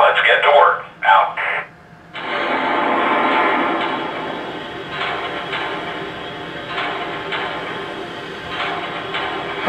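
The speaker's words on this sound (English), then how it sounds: "now that the locomotive is started up" A Lionel Legacy Y-3 2-8-8-2 model locomotive starts up, with short radio-style chatter bursts at first giving way to a sustained whirring engine rumble and hiss that hold steady at moderate loudness.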